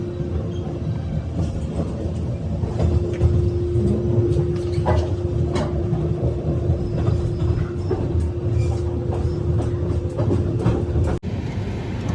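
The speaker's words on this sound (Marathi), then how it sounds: "ही ट्रेन थांबली आमची" Steady rumble of a passenger train, with a constant hum and scattered clanks and knocks throughout, close by, no voices.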